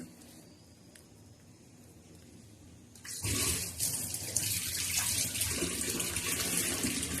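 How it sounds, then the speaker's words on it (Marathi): Water splashes onto a stone grinding slab to rinse it before making green chili, garlic and peanut chutney. A quiet lull breaks into a loud, steady rushing pour that keeps running to the end. "ते बघा पाट्यावर असं पाणी टाकतात"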